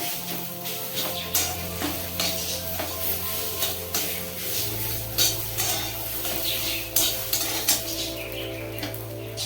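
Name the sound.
fish roe being stirred and fried in pan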